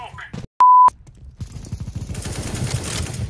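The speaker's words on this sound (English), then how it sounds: "Deploying flashbang." In a video game, a flashbang grenade is deployed, with a sharp tonal beep followed by a burst of rapid gunfire and clattering action close up, and a voice talking briefly at the start.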